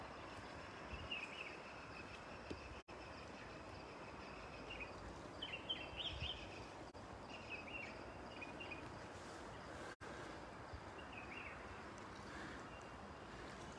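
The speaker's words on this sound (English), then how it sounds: "I wanted to get a little closer to the birds, but I think you can hear them" Birds sing outdoors at dawn, scattered chirps and short trills rising at moderate distance over a steady wash of wind and ambient noise, with brief dropouts in the background.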